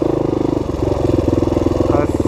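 A dirt bike engine runs steadily while riding a trail loop in Michigan, a close, loud, pulsing mid-pitched drone with rapid rhythmic firing and a slight rise near the end.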